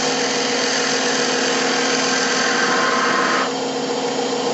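A spindle gouge cuts a wooden toothpick holder spinning on a lathe: a steady, loud whirring hum with a continuous cutting hiss that shifts and eases slightly near the end.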